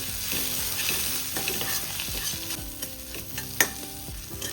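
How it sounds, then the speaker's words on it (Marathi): Vegetables frying in oil in a pan as turmeric and red chili powder are stirred in, with close scraping spatula strokes over a continuous sizzle, brief and without speech. "थोडासा हळद पण घालूया छान मिक्स करून घेऊया"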